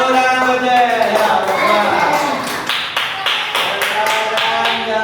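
Children clapping together in a classroom, a burst of quick, rhythmic claps rising over chatter and voices, fairly loud and close.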